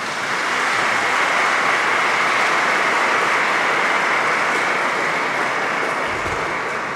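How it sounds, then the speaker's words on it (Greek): Sustained, dense applause from an audience filling a church after a Byzantine music concert, loud and steady for several seconds with no talk over it. "Ένα διπλό χειροκρότημα."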